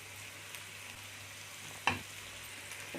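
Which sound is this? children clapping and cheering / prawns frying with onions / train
prawns frying with onions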